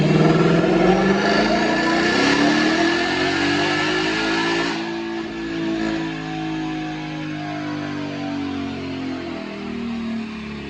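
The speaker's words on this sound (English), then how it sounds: "but right now, watch the dyno pull." A supercharged 2020 Mustang GT automatic fitted with a Roush supercharger screams through a dyno pull, engine pitch climbing steadily under load and then easing off into a lower, fading roar, loud and close.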